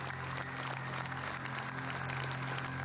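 Delegates of the United Nations Security Council applaud a speech by French foreign minister Dominique de Villepin in 2003. The steady, crackling clapping sounds faint and distant over a low hum, with no voices.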